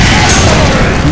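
A grenade blast in the game UnderHell fills the moment with a loud, dense, roaring burst of noise that stays close and heavy throughout.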